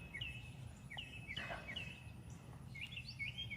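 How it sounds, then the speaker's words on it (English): Small backyard birds such as cardinals and blue jays chirp and whistle in short, repeated calls over a steady low outdoor rumble, with several bright notes scattered across a few seconds. "They're not worried about me one bit, these little birds."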